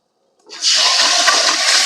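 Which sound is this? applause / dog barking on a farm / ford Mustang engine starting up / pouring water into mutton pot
pouring water into mutton pot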